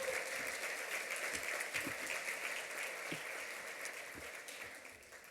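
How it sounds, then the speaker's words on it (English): Audience at an awards dinner applauds an honoree's leadership, a thick, sustained patter of many hands with a few louder claps close by, slowly tapering toward the end. "Give her another big round of applause for her leadership."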